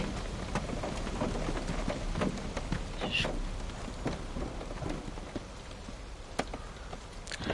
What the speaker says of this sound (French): Ah, c'est bruit de pluie.